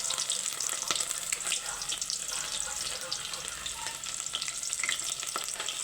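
Cumin and mustard seeds fry in hot oil as onions are added, making a continuous hissing sizzle with light crackles and faint stirring, steady and moderately close.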